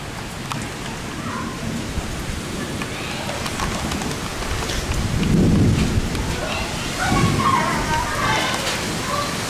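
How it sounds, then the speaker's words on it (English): Heavy rain pours steadily in Perth during a thunderstorm, loud and close, while deep thunder rumbles swell through the middle of the downpour. "first of the wild storms to come"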